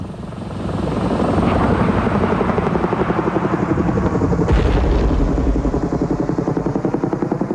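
Mi-28 Havoc Soviet attack helicopter prototype flying, its rotor beating in a loud, steady rapid thump with turbine whine throughout, close and continuous.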